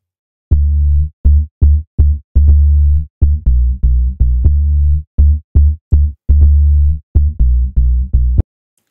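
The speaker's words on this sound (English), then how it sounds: "I took a nice and basic kind of dancehall bass sound" A plain, unprocessed dancehall bass synth plays a rhythmic pattern of loud, deep sustained notes with short gaps between them, alone with no other instruments.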